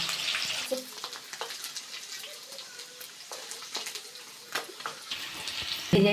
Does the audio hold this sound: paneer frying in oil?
yes